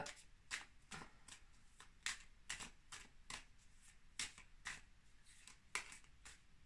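Tarot cards shuffled by hand for a reading, a run of quick crisp riffling snaps at an uneven rhythm, close but quiet, with no talking.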